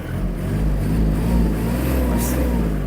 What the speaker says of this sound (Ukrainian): Така от робота двигуна.